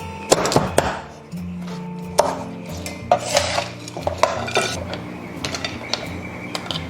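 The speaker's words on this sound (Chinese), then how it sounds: "然后这个蟹身的话，我们给它切成4小块就可以了" A swimming crab's body being cut into four pieces with a knife on a board, sharp chopping knocks and clatters close by, irregular and loud, with utensil clinks between strikes.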